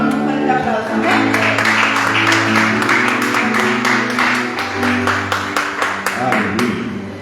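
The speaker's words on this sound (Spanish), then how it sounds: "démosle ahora la bienvenida al pastor Gustavo con un fuerte aplauso" A church congregation claps to welcome pastor Gustavo, a dense run of quick hand claps that stays strong for several seconds before thinning out, with sustained low tones humming underneath.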